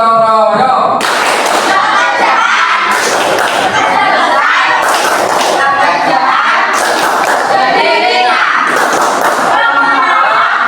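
A classroom group performs the gotong royong rhythmic clap, loud bursts of unison clapping and thumps repeating in a steady pattern about every two seconds, with voices chanting along.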